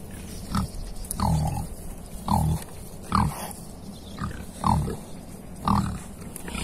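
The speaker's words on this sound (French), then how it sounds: "Donc nous arrivons dans un paddock où nous avons 3 jeunes porcs" Three young Bayeux pigs, about seven months old, grunt in a grassy paddock, giving a series of short rhythmic grunts roughly every second, fairly close and moderately loud with no talk.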